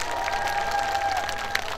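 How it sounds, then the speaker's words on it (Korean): Audience clapping in front of an outdoor festival stage at a station square as a performing group is introduced; dense, steady applause lasts the whole stretch, with a sustained tone ringing beneath it. "박수 보내주세요."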